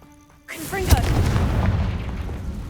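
The Confringo fire spell in Hogwarts Legacy goes off as a single booming blast, followed by a rumbling, crackling decay that fades slowly.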